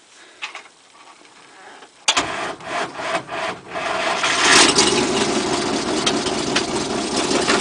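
A GAZ 3307 truck's Mitsubishi engine cranks and catches abruptly, then runs on with a loud, steady rumble that grows slightly louder and stays close.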